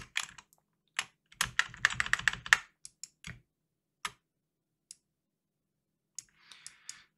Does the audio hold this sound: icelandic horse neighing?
no